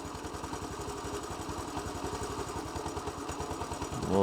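A Honda CT110 motorcycle engine runs close by with an even, rapid putter that swells into a rev at the very end.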